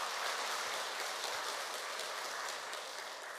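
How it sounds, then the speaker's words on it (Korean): Congregation at a Won Buddhist temple service applauding, a dense, steady wash of many hands clapping that fills the whole stretch at moderate volume with no speech over it. "박수 한번 드릴까요?"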